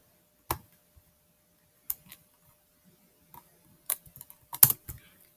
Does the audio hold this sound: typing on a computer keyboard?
yes